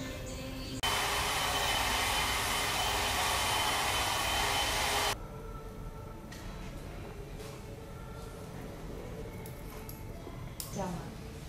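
Hair dryer blowing loudly in a salon for several seconds, a steady rushing roar that cuts off abruptly, followed by quieter room sounds.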